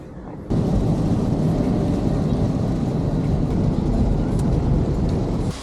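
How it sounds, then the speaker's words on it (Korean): Steady rain pours outside at a campsite in Shizuoka, Japan, a dense, loud, continuous hiss and patter that starts abruptly after half a second and holds evenly to the end. "지금 밖에 비가 와가지고"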